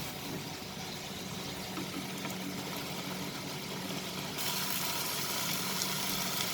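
Tomato paste masala for prawn curry simmering in a pan, a steady close sizzle and bubbling hiss that runs without break and grows slightly louder near the end, with no talking.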